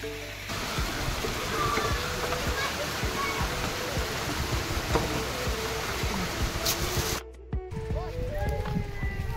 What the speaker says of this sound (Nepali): यहाँनिर चाहिँ ठ्याक्कै दुईटा खोला मिसिन्छ